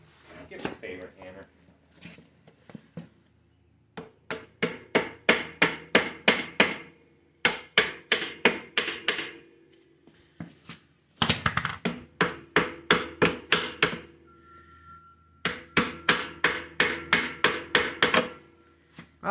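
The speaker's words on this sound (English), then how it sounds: "Probably have to tap it off a little bit with a hammer." Bursts of rapid, ringing hammer taps on metal, several quick series separated by short pauses, close and sharp.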